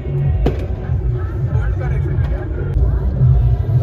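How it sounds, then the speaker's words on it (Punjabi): A few sharp firecracker pops break through a dense street din of traffic and crowd noise. Voices can be heard in the background. "ਪਟਾਕੇ ਪਟਾਕੇ"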